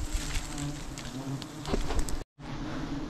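A swarm of wild forest honey bees buzzes around its nest, a dense, close, continuous drone with individual bees zipping past the microphone, broken by a brief dropout near the end.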